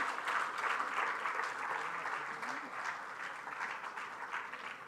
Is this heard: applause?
yes